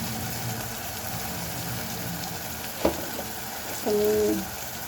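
Turmeric and garlic red chili powder hit hot oil in a pan for Gujarati roasted eggplant olo, giving a steady sizzle with a sharp crackle and a brief louder burst of frying near the end.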